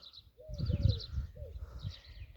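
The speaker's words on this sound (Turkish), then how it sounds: "Bak bir yerde de kumrunun sesini duyuyorsun." A turtle dove's soft, low cooing repeats a few times close by, with higher birds chirping in the background and a faint rustle.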